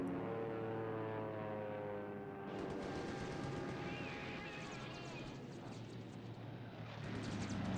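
Many World War II B-17 bombers from the game War in the Pacific drone steadily, with heavy propeller-engine noise that swells louder partway through and holds as a continuous loud roar.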